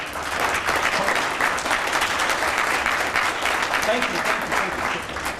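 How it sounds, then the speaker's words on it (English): Audience at a youth collaboration breakfast breaks into steady, dense applause that stays loud and even throughout, with a few voices mixed into the clapping. "let's give you the best applause"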